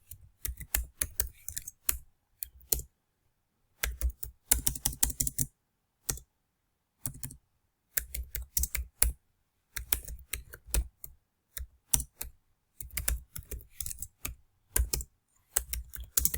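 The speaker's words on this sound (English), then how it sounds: "Let us type the code." Code typed on a computer keyboard in quick bursts of clattering keystrokes separated by short pauses, close and moderately quiet, with no voice over it.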